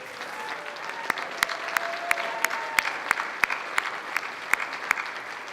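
An audience at a Hall of Fame ceremony applauds, a steady wash of clapping from a crowd with sharper individual claps popping out near the microphone and no talking.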